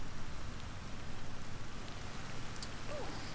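Steady rain falling in the video game Ancestors, a soft, continuous hiss of drops with no talking, fairly quiet and even throughout.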